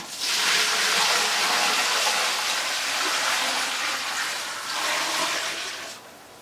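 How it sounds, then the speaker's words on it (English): Water gushes steadily into a pot for chicken broth, a broad hissing rush that continues for several seconds before tapering off near the end. "this is going to take quite a bit of water"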